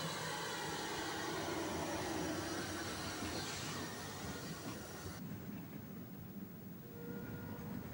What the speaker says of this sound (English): a 15-inch gauge locomotive, Princess Elizabeth, built in 1914 by Bassetlaw